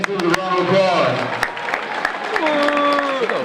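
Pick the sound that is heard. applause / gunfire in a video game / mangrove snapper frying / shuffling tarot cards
applause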